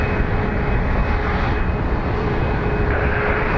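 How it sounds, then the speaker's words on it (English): A Ryanair Boeing 737 Max 8 jet at Dublin Airport: a loud, steady roar of jet engines with a thin high whine running through it, continuous and close throughout. "This Max 8 is FR 6875 heading to Barcelona."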